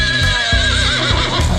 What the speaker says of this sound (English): That's my horse.